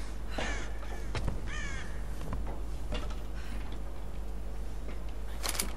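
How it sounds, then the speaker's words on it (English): A crow caws repeatedly in the Tomb Raider video game, harsh calls spread across the clip with some at mid distance over a steady low background rumble, and no speech. "Kill that fucking crow."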